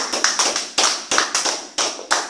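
A church congregation claps in acclamation of Jesus in a steady rhythmic pattern of loud, close claps, some in quick pairs, with no talk over them.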